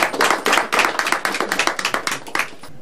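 A small group claps rhythmically and in unison, sharp close hand claps in a quick, steady beat with slight accents, fading slightly toward the end, no talk over it.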